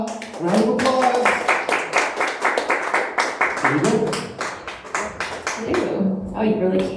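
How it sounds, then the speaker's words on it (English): An open mic audience claps for a performer in sharp, distinct bursts, the clapping overlapping with talking voices and rising and falling in intensity throughout. "Everyone, Renata Ona. Round of applause."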